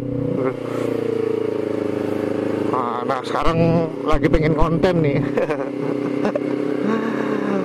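A motorcycle engine idles steadily up close and then revs in several sharp bursts while someone talks over it.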